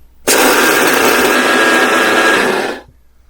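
A SHARDOR stainless electric coffee grinder pulverizes roasted coffee beans, a loud, steady high-pitched whirring buzz that starts abruptly, holds for about two and a half seconds, then winds down and stops.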